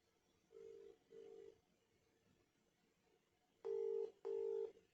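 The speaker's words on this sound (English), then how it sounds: "You can hear it ringing." A Motorola Moto G24 phone ringback tone sounds in double bursts, two faint pulses followed by two louder ones, over quiet background hiss.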